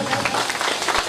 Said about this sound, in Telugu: big claps